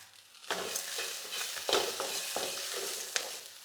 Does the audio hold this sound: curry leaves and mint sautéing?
yes